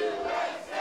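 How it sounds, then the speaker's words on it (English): A capacity wrestling crowd at the Bloomington Knights roars in a dense, sustained chant, loud and close, filling the arena without a break. "A firm USA chant being shouted out by the capacity crowd here at the Bloomington Knights"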